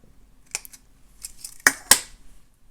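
Small cutters snip a 3-inch length of jewelry wire for a beaded necklace, giving a faint click followed by two sharp, close snaps in quiet surroundings.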